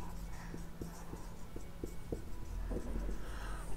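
Chalk or marker strokes on a board during a Hindi lesson, a series of short scratchy taps at an uneven pace, fairly close, with faint room noise and no clear speech.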